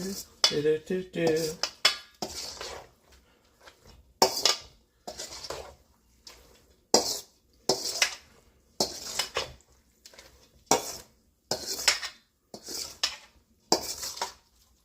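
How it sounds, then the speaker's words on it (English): A spoon scrapes and knocks around a pot while stirring food, giving a steady series of sharp, close clinks and scrapes in regular bursts, with no talking. "Give it another little stir around."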